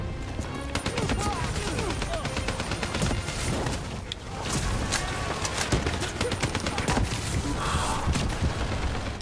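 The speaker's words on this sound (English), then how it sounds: "Why are you shooting me?" Gunfire aimed at the player in Black Ops 3, rapid bursts of shots and thuds cracking repeatedly under dense game noise, steady and fairly close throughout.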